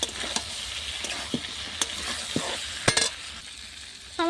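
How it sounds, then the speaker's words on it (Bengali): Steady sizzle of cauliflower and vegetables frying in a pan on a clay stove, punctuated by sharp scraping stirs and clinks of a spatula at irregular intervals. "সমস্ত সবজিগুলো ভাজা হয়ে গেছে"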